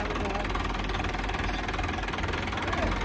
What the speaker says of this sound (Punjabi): ਬਾਈ ਟਰੈਕਟਰ ਦੀ ਸਟਾਰਟਿੰਗ ਕਰੋ ਚੈੱਕ